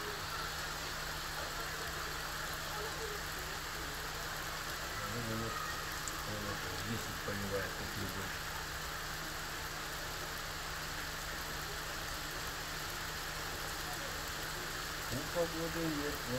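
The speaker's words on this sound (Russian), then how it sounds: "У нас дождище хлещет." Heavy rain pouring outside, a steady broad hiss running throughout with a faint low hum beneath, and brief muffled voices in the background.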